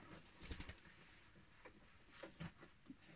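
A pigeon or dove coos nearby during home sewing of a kick scooter bag, with a few soft, low, rhythmic coos over a faint background.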